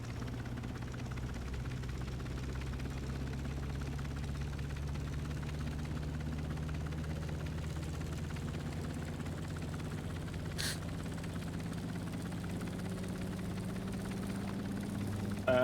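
Damaged helicopter engine idling in the Stormworks game, a low steady droning hum with a faint vibrating rumble, even and continuous throughout, with no talk over it.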